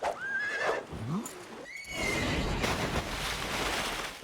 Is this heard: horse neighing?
yes